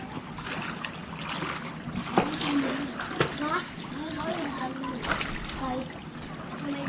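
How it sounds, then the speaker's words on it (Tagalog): Children splash and swim in high-tide flood water on a street, with sloshing, irregular splashes and bursts of water movement close by, while several people talk and shout over it throughout. "Enjoy sila maligo sa dagat."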